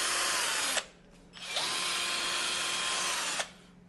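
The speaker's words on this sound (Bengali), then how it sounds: "এটা হলো 21 ভোল্টের মেশিনটি।" A 21-volt cordless drill runs in two bursts, a loud high-pitched motor whine that spins up, stops briefly, then whirs steadily again before cutting off, close by with no talking.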